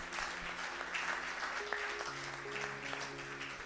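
A church congregation claps in praise of the Lord during a French-language service in Tangier, with steady, dense applause filling the room and faint sustained instrumental tones underneath.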